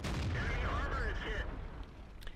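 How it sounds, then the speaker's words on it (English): A 105mm tank cannon fires in World of Tanks, a deep booming blast with a rolling tail under continuous talk and game noise. "Here we can see just how accurate the 4202 is with its 105mm cannon."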